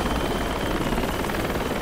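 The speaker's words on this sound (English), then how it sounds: "If you're in the chopper, jump out, because he's gonna crash if he goes any lower." A helicopter flies low over the map in the game Project Reality, its dense rotor and engine roar steady and close throughout, with no voices over it.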